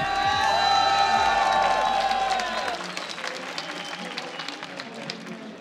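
A big live crowd at the IEM Katowice 2015 StarCraft 2 quarterfinal cheers and applauds loudly, the roar dropping after about three seconds to a lower sustained clapping, with a voice over it.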